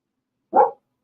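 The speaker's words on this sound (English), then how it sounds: "I can't stop them from barking" A dog gives one short, loud bark close by at home, with silence on either side.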